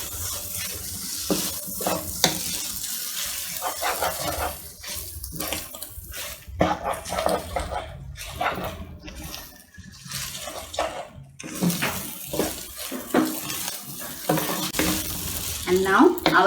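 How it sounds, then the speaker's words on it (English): Egg noodles being stirred and fried in a pan, with a steady sizzle under repeated scraping and tossing strokes that come and go throughout. Close and moderately loud, with no one talking. "Mix it well."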